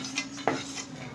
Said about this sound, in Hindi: इन्हें भी हम निकाल लेंगे उसी बर्तन में जिसमें हमने गोंद और ड्राई फ्रूट को रखा है।